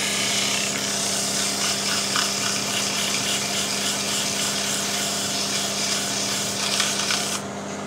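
Power sanding of a jarrah wood barrel cup, a steady close abrasive whir with a constant motor hum that runs almost unbroken for about seven seconds before dropping off near the end.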